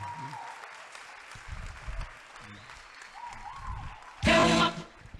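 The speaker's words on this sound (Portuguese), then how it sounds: "uma salva de palmas aí para o professor Celso Antunes" An audience gives a short, loud burst of applause for a professor at a school lecture, coming after quieter stretches of talk and lasting under a second.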